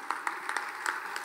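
An audience in a college theatre festival's inaugural session applauds to welcome a guest, a dense, steady patter of many hands clapping at moderate distance, with a few sharper claps standing out, no voices.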